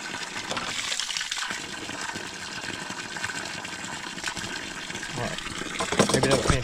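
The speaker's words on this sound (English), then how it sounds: "maybe that'll finish draining" Water gushes steadily from a draining tank in a continuous, fairly loud rushing flow with occasional sputters and surges toward the end.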